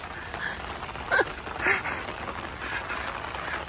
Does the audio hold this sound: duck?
yes